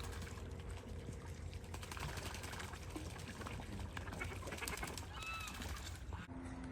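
Barnacle geese at an ornamental duck pond give faint, distant honks over quiet background noise, with a short cluster of calls near the end.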